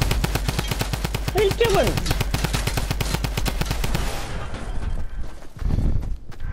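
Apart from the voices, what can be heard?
gunfire in the video game Fortnite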